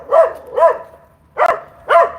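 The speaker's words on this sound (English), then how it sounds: "Sorry for this dog." A dog barks four times in a fairly regular rhythm, each bark loud and close, with short quiet gaps between them and no talking over the barks.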